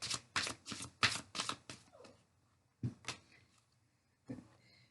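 Tarot cards being shuffled by hand, a close, crisp run of rapid riffling bursts followed by a few softer, separate card flicks and taps with brief pauses between.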